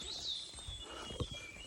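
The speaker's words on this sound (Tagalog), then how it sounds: "Kung naririnig yung tunog ng mga ibon." Birds chirp faintly in the distance on a mountain hike, thin high calls over quiet ambience with a soft footstep-like knock.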